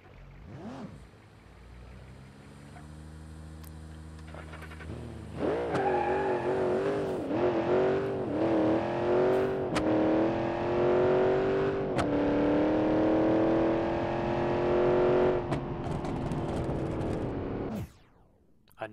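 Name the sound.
car accelerating with nitrous in BeamNG.drive video game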